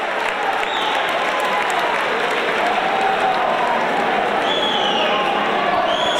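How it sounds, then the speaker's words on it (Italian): Applause from a basketball crowd during an Italian league game between San Severo and Cassino, a steady, dense wash of clapping that holds loud for the full stretch, with murmuring voices and faint whistles mixed in. "Va a scusarsi e viene applaudito"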